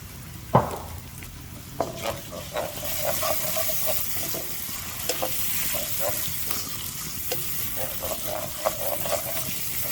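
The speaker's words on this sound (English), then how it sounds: "I will stir it for about 15 to 30 seconds" Kebab karahi masala fries in a pan under a dense, loud sizzle while a utensil stirs it, leaving repeated scraping strokes and a sharp clack near the start.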